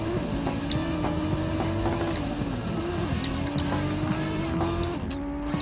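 Rally car engine in the PS1 racing game V-Rally 97, a steady loud revving drone that dips and climbs again as the car slides and reaccelerates, with faint tire squeal, no voices.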